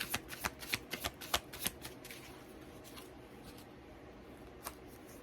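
Tarot cards shuffled by hand, a quick run of soft, papery riffles and slaps for about two seconds, then near-quiet with one faint later tap, close and gentle with no talk.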